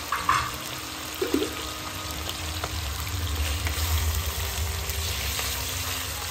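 Garlic and ginger paste fries in a pan, giving a soft, steady sizzle with occasional stirring clinks, fairly quiet and with no voices.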